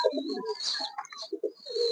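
Giribaj pigeons coo close by, several soft throaty coos with faint chirps in between, quiet and alone without voices over a couple of seconds.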